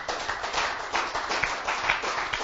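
Audience applause at a cycling club event, a steady patter of many hands clapping, moderately quiet and continuous with no talk over it.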